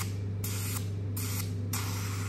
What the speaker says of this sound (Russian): Мы распыляем лимфу.